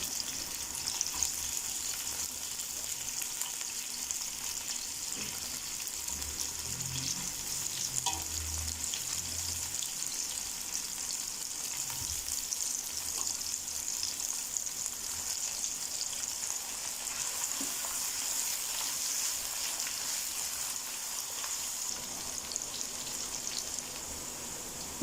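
Onions frying in a pan over a medium gas flame: a constant, crackling sizzle throughout, close up, with a few faint clinks and stirring sounds partway through.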